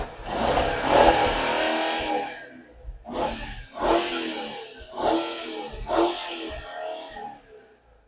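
A 2015 Mercedes-Benz S550's 4.7-litre twin-turbo V8 is revved hard in a string of loud, close throttle blips, each roar rising and dropping back between bursts.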